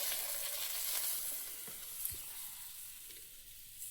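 Bata fish frying in a pan, a continuous hissing sizzle that is steady and close, easing slightly toward the end before a brief clatter.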